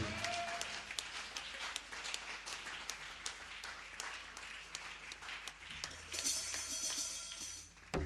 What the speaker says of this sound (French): Let's put our hands for Jesus.